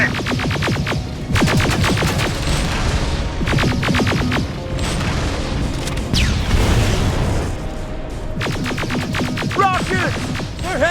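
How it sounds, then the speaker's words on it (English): Rocket explosions in Terminator Resistance, heavy crashing booms and rumbling blasts that go on continuously over eleven seconds, loud and close, with bursts of rapid mechanical fire woven through the barrage. "Rockets! They're heading this way!"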